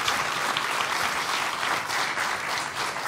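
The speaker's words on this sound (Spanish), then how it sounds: "un aplauso para ella" A studio audience at a Canary Islands folk music show claps for a singer, a dense, even burst of applause that stays full and close for the whole stretch.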